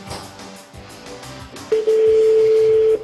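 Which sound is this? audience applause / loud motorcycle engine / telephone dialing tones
telephone dialing tones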